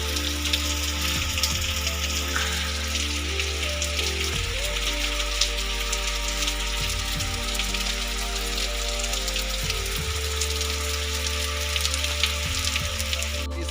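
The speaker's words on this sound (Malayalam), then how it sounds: "വിചാരിച്ചതുപോലെയല്ല, നല്ല രീതിക്ക് മഴയുണ്ട്, നല്ല മഴയാണ്." Heavy rain pours steadily on surfaces at a forest eco-tourism hiking spot, a loud, dense, unbroken patter with low rumbling underneath, no voices.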